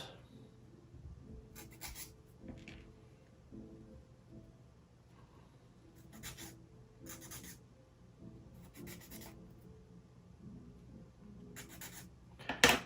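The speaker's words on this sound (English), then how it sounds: "we go through the same exercise of sanding it all around." Quiet scratchy rubbing repeats in short bursts over a soft background hum: sandpaper stroked back and forth across small wooden parts of a UGears Windstorm Dragon mechanical wooden model kit.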